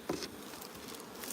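Honeybees hum in a crowded, busy hive colony during a nuc transfer, a faint, steady close-up buzz with a few light taps in one brief stretch.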